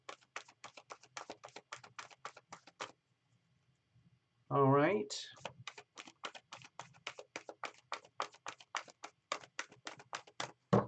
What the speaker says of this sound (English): I'm going to just shuffle this up.